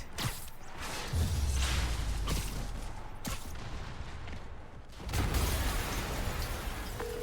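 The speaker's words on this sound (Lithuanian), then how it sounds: "Yuri, an explosion just... I saw it." Several sharp explosive bursts crack out over a continuous roaring rumble in the Spider-Man video game, with heavy blasts near the start and again toward the end.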